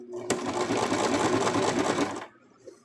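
A sewing machine stitches a plush monster in one steady, close burst of about two seconds, with a sharp click at the start, then stops into near silence.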